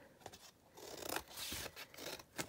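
Scissors cutting through junk journal paper pages in quiet, close snips and slicing strokes, several cuts in a row, soft and faint.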